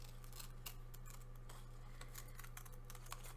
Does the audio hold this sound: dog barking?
no